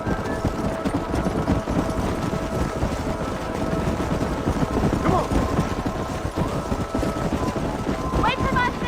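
Horses gallop at speed in Red Dead Redemption during a canyon drive, with a steady rapid clatter of hooves running throughout, a voice briefly calling out over the pounding.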